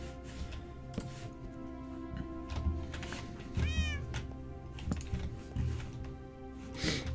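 A Minecraft cat gives one clear, rising-and-falling meow midway, amid clicks and clunky block sounds over a constant low background hum.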